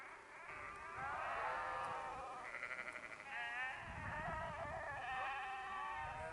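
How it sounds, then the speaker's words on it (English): Sheep bleat repeatedly at a distance on a mountain trail in Colorado, several overlapping wavering calls carrying over a field of corn lilies, moderately loud and continuous with no talking. "I'm hearing what sounds like sheep out here somewhere."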